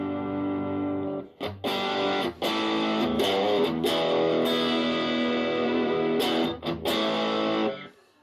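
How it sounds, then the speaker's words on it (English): An electric guitar runs through a BOSS DS-1 distortion pedal into a clean amp, playing sustained distorted chords with a few short gaps between strums, loud and close. "basic distortion overdrive sound out of the DS1 directly into a clean amp"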